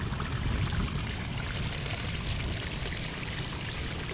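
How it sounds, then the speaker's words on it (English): Small waterfall in Scotland trickling and splashing steadily into a little rock pool, a continuous close-up wash of water without any voices. "Trickling down into the little rock pool there."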